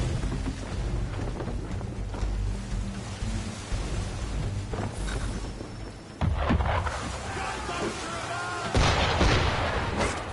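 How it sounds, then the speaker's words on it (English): Gunfire from Assassin's Creed III Remastered is aimed at a boat, with heavy cracks and booming reports landing at intervals over a steady wash of water and ambient rumble. "Why is he shooting at us?"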